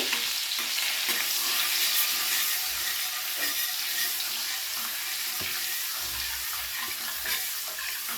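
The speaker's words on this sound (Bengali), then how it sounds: "তো বাটারটাকে তেলের সঙ্গে খুব ভালো করে মিশিয়ে নেব" Butter is stirred into hot oil left from frying, a continuous bright sizzle at close range with soft scraping and stirring sounds running under it, steady from start to finish.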